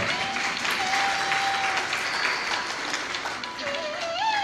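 Audience applause breaks out during a Hindu religious katha discourse, a dense steady clapping from a crowd sustained throughout, with faint tonal whistles or voices riding above it.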